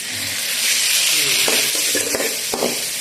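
Fish goes into a hot pan for Thai stir-fried basil fish, raising a steady, loud hiss of sizzling with a few sharp scraping clicks from stirring near the end.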